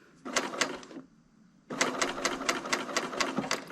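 A Bernina serger stitches a piped pot holder, running loud and close in two bursts with a quiet pause between them. Each burst carries a rapid, steady mechanical chatter.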